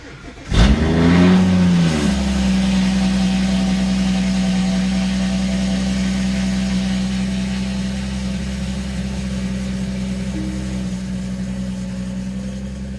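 A BMW B58 car engine cranks and catches with a brief rev, then settles into a loud, steady idle that hums on without a break.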